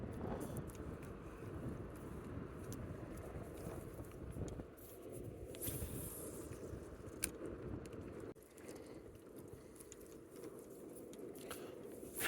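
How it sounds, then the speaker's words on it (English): Wind blows across the microphone outdoors during a fishing trip, giving a steady low rumble with gusty buffeting and a few faint knocks. "Man, this wind."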